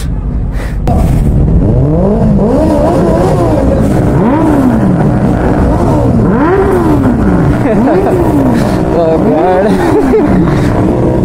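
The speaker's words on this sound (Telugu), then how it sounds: "అన్ని బైక్ సౌండ్స్ ఒక్క బైక్తోనే అయిపోతుంది" Several motorcycles, including 600 cc bikes, rev repeatedly during a group ride, with rising and falling engine sweeps in a rhythmic series, loud and close, amid background chatter.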